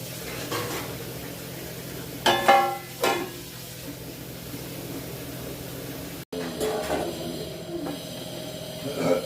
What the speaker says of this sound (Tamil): நல்லா கொதிக்குது மீன் குழம்பு